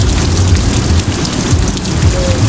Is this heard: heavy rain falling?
yes